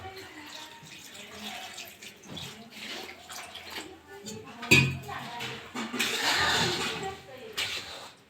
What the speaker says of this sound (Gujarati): હવે નાખશી પાણી